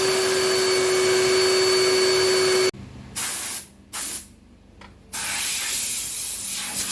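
A vacuum cleaner roars in steady bursts while cleaning a BMW X1 car interior, cutting off and restarting several times, with a strong hissing whoosh of air as it runs.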